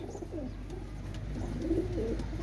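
Rampuri pigeons coo in low, throaty bursts over a steady background hum, with several soft rolling calls close by and no talk.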